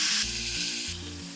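Spinach dropped into hot oil already tempered with mustard seeds and crushed green chili gives a broad, steady sizzle, close and loud, with a low rumble of the pan underneath and no talking.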